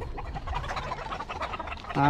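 Young stag roosters on a Philippine chicken farm cluck and chatter in a busy flock close by, ending in a sharp, loud crow.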